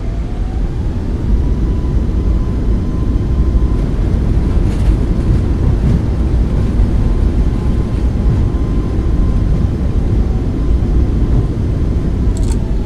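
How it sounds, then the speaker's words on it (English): A Boeing 737 MAX 8 in a flight simulator game roars with thrust reversers deployed after landing in Toronto, a loud, steady, low rumbling rush of engine noise across the whole stretch without speech. "Nose down gently. Reversers are out. Maintain center line. Decelerating."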